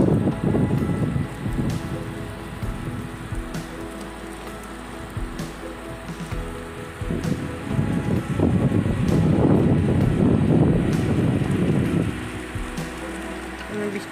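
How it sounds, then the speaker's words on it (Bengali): Heavy rain pours down outdoors in Odisha, a loud, steady wash of drops drumming on surfaces that swells stronger midway, with a faint voice or two underneath. "বৃষ্টি ভালোই জোরে আসলো।"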